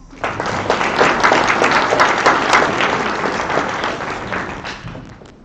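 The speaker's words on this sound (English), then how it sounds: "Please join me in giving Owen our round of applause." Banquet guests at a swim club's awards dinner give a swimmer a round of applause, a full burst of close clapping that builds quickly, holds steady, then tapers off near the end.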